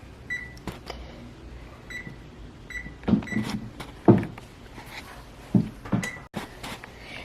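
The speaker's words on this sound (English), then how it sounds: "Before we mix it up, we're going to preheat the oven." Kitchen oven controls being set to preheat to 400 degrees, giving a few short electronic beeps and soft button clicks amid light handling clatter, with no talk.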